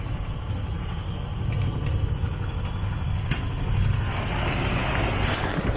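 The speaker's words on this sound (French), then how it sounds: "il y a une belle houlasse" Steady rumble of wind and water washing around a boat in a southerly sea swell off Porquerolles, with a low engine drone underneath; continuous swell noise with no talking.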